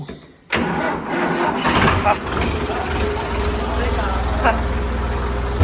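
A farm tractor engine that has stood unused for five or six months is cranked and fires up, bursting in loud after a brief quiet start, then settling into a steady rough running rumble close by.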